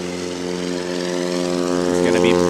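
The engine of a STOL aircraft spools up for takeoff at a Rocky Mountain competition in Pinedale, Wyoming, a steady droning hum that rises slowly in loudness, with crowd and commentary noise underneath.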